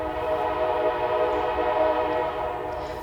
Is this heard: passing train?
yes